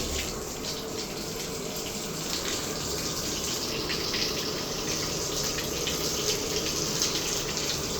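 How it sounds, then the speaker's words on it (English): A running shower sprays water in a continuous, even hiss and splash that stays steady and close throughout, with no talking. "Let's try running the shower a bit and see if I smell it again."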